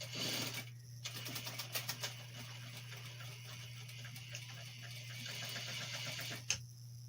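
A domestic sewing machine stitches boxer shorts in a steady mechanical whir with rapid needle ticking, close and fairly quiet over a constant low hum, briefly pausing near the start and end.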